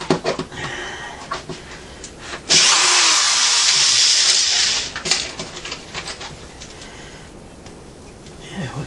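A power drill drives a screw into a wooden picnic table with one loud whirring burst of about two seconds, close, and lighter handling clicks and knocks around it.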